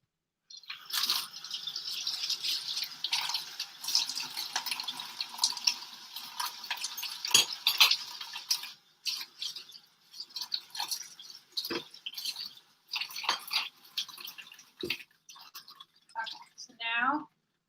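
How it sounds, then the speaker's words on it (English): Running tap water gushes steadily while a pot or utensil used for a cheesy pasta sauce is rinsed at a home sink, with clatter and splashes; it breaks into intermittent bursts later and a voice speaks near the end. "So now I actually need to wash this."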